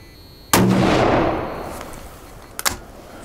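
A single sharp rifle shot from a Ruger American Ranch in 5.56 firing a hand-loaded round, loud and close, with a long rolling echo fading outdoors and a couple of faint distant cracks near the end.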